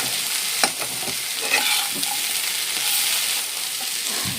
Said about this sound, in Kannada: ಹಾಗಲಕಾಯಿನ ಫ್ರೈ ಮಾಡ್ತಾ ಇದ್ದೀನಿ